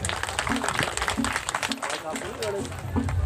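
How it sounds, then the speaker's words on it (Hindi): Loud, dense applause from an audience at a panchayat event as a speaker is welcomed to the stage, continuous rapid clapping with a low hum and faint voices underneath. "जोरदार तालियों के साथ स्वागत करें"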